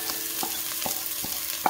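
Spices being stirred into frying lentil and spinach dal with coriander, garam masala and chili: a soft sizzle with five or six quiet, evenly spaced scraping strokes, no voices.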